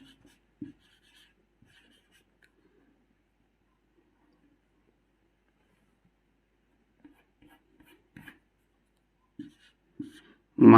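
A pen writes a maths solution by hand on paper, mostly near-silent with a few faint strokes early on, then short scratchy bursts of writing toward the end, growing louder at the close, with no talking.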